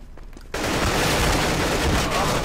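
Counter-Strike: Global Offensive gunfire erupts after a brief quiet moment into a loud, sustained barrage of rapid shots that continues steadily to the end.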